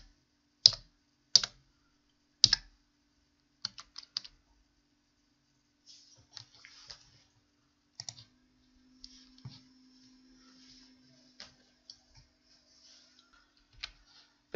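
Keys on a computer keyboard tapped in short, sparse bursts of clicks with pauses between them, close and fairly quiet in a silent room.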